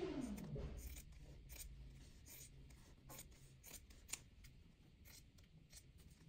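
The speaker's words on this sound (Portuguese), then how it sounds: "Vou cortar um tecido também, uma outra tirinha, para fazer o acabamento." Fabric scissors snip a thin strip of cloth for a binding edge in patchwork sewing, a quiet series of close, rhythmic cuts and soft blade clicks over a faint room hush.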